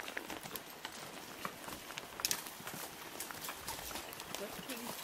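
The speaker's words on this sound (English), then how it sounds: "We're on the trail riding horses." Horses walking on a trail ride in Wisconsin, hooves clip-clopping in a loose, uneven patter, faint and somewhat distant against outdoor ambience, with light scattered knocks and no clear voices.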